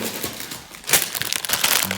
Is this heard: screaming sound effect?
no